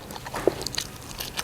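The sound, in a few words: biting into food, Thai khanom jeen curry meal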